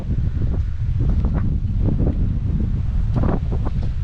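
Wind gusts buffet the microphone at a seaside resort in Bintan during monsoon season, a steady loud rumble with rustling bursts and a faint wash like surf, no one talking.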